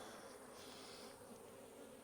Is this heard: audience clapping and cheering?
no